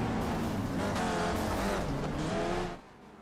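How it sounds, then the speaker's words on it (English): Race cars in the iRacing game at Long Beach pile into a turn, with loud, dense engine roar and tyre noise that fades abruptly near the end. "cars all slamming into turn 11 there"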